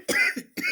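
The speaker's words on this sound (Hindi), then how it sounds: "खांसी आ जा रही है इतने डस्ट में।" Two short, raspy coughs from a man, irritated by dust inside a straw-filled storage room, close and clear with a brief pause between them.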